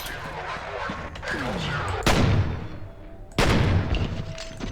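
Gunfire in the PC shooter F.E.A.R., two heavy blasts each with a long crashing tail and debris. They land after a stretch of quieter rumbling and scattered clatter.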